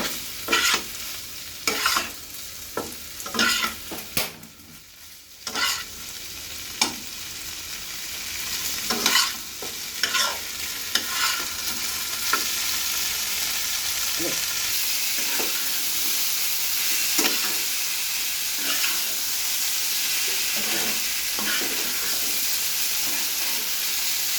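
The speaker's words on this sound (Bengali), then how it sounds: "সবজিটা রসুন, পেঁয়াজ আর সরিষার সাথে ভালো করে মিক্স করে নিচ্ছি।" Vegetables with garlic, onion and mustard stir-fry in a pan, starting with rhythmic scraping and stirring clatter, then settling into a continuous loud sizzle with intermittent spatula knocks, close up and without talk.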